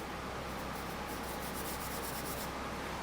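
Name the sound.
hand rubbing over rough paint overspray on a car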